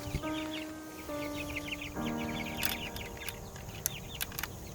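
Broiler chickens cluck and murmur inside a chicken tractor, several birds calling in overlapping bursts with short sustained tonal calls, close and moderately loud over a soft outdoor background.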